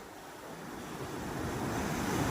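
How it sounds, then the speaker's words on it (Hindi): Powerful ocean waves surge and roar at Katchal Island, a dense, continuous wash of surf with wind noise that builds slightly louder toward the end, with no voices. "ये ज़बरदस्त लहर आ रहा है"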